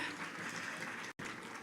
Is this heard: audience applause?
yes